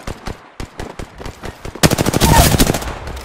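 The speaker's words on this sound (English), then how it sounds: "Listen up, I'm getting shot at." Gunfire in the video game Apex Legends, sharp rapid shots in a loose rhythm that build into a dense, loud automatic burst for the second half.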